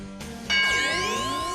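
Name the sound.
game show bell ding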